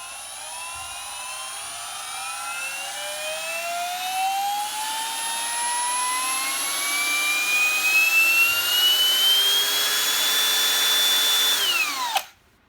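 A Parkside Performance PABSP 20-Li A1 brushless cordless screwdriver motor winds up steadily, its whine climbing in pitch like a jet engine spooling, holding high, then cutting off abruptly.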